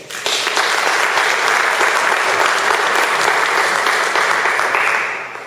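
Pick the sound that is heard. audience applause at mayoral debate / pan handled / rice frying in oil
audience applause at mayoral debate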